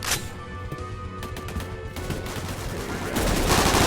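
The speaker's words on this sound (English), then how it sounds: "Ooh, I'm getting shot." Video game gunfire, rapid bursts of sharp shots that start dense and spaced, then blur into a louder, continuous roar of firing toward the end.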